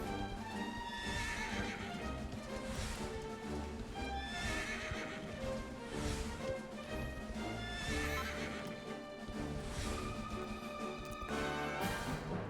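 Horses in Dragon Quest 11 neighing and whinnying repeatedly over steady clip-clop hooves, a quiet game soundtrack with several whinnies recurring every second or two.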